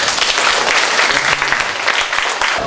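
Applause from a crowd of school student council members at a civic defence training session, a dense steady clapping that fills the whole moment, loud and close with no pauses.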